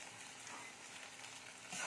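Turmeric hitting hot oil for a mixed-vegetable curry, producing a brief, even, close hiss of frying that swells slightly at the end, with no voices.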